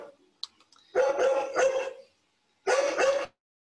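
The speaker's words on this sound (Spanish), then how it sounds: "Perdón, tengo mi perro." Dog barking nearby in a home, three loud barks in two bursts with short gaps, with no speech.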